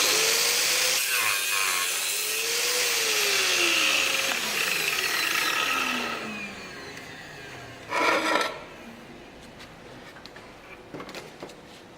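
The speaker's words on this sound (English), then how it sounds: "I'm going to turn on the vacuum cleaner so we're dust free, and obviously have to turn on the grinder" A grinder cuts with a vacuum cleaner running alongside for dust, making a loud whining, rasping roar that rises and falls in pitch, then drops away to a quieter hum broken by a brief harsh grinding burst.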